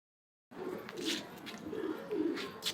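Pigeons coo close by inside a home loft, a few soft, throaty rolling calls after a brief silence at the start.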